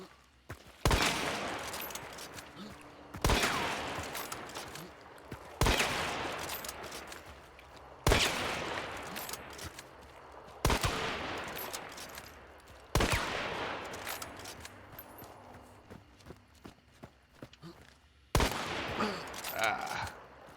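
Practice rifle shots in a bayou hunting video game, eight loud single reports spaced a few seconds apart, each ringing out with a long decaying echo.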